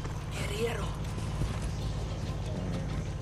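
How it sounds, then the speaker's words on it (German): Horse hooves clip-clop in a galloping rhythm in the video game Far Cry 6, mixed with creaking, mechanical tack noises and a brief voice early on. "Und jetzt gib mir das Pferd."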